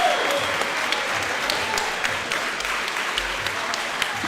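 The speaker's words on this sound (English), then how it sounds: "the crowd is on their feet" A crowd at a live fight event applauds and cheers after the bout, dense sustained clapping with scattered shouts rising and falling at steady loudness.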